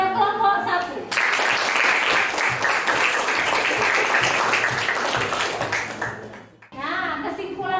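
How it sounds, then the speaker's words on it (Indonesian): Loud, sustained applause from a classroom of students clapping for the first group, running steadily for several seconds before fading into a teacher's voice. "Beri aplaus kepada kelompok 1"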